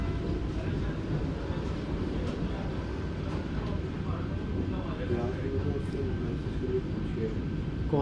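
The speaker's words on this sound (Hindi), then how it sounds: "भुवनेश्वर आनंद विहार उड़ीसा संपर्क क्रांति के साथ हमारी क्रॉसिंग हुई है प्रयागराज आउटर पे" Rumble of a Vande Bharat Express train crossing the Bhubaneswar–Anand Vihar Odisha Sampark Kranti at the Prayagraj outer, a steady, dense low roar of wheels and passing coaches that holds evenly throughout.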